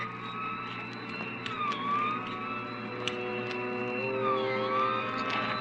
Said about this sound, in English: We both heard the siren then.